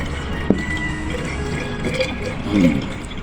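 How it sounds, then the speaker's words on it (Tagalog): Cold refrigerator water poured over large ice chunks into an Aqua Flask 32oz bottle, heard as a close, steady liquid fill with a small knock of ice near the start. "Ang sasalin nating tubig ay yung tubig na malamig na galing sa rep."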